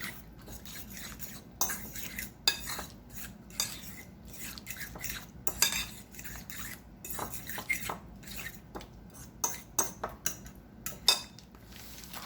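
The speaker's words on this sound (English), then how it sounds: "We put in the egg, stir that around a bit." A utensil stirs an egg into an oatmeal and milk mixture in a bowl, making irregular clinks and scrapes against the side with brief quiet pauses in between.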